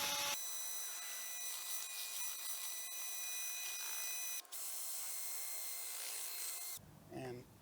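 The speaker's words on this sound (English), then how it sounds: "If you're mixing with a paddle like this, make sure you hold on to this container" A drill fitted with a paddle mixer stirs epoxy in a handheld container, giving a steady, close whirring grind that runs for about six seconds and then cuts off abruptly.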